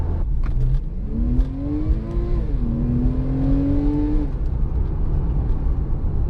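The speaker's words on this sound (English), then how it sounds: "once you get on it, you could really hear that engine" A 2010 Porsche 911 Carrera engine revs up close, its pitch climbing smoothly in one long sweep, dipping briefly, then climbing again before easing off.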